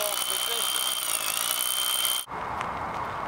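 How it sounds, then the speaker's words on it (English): A hammer drill bores a half-inch hole through cement for a hammer set anchor in a gun safe install, a loud steady grinding whine that runs continuously, then cuts out abruptly and gives way to quieter room noise. "Now Eddie here is going to drill the hole."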